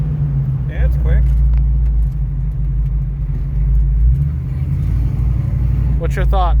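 A 1967 Ford Mustang Fastback GTA with the S code engine rumbles steadily from inside the car on a road drive, its low engine drone constant throughout, with a brief rise in revs near the end.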